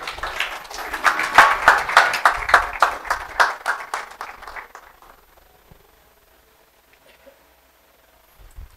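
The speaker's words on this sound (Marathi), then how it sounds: "टाळ्या वाजवू आपण." A church congregation claps in a steady, rhythmic beat after worship, the claps loud and close at first, then tapering off into near silence after about five seconds.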